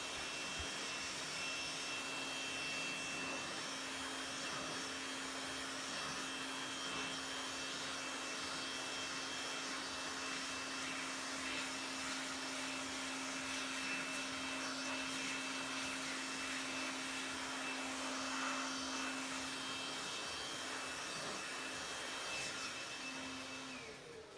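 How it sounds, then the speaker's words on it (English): PT blower air-drying a freshly washed car, a loud continuous high-pitched rushing whine with a steady tonal hum, close and unbroken throughout with no talk. "We're going to speed up the drying process with a little PT blower here"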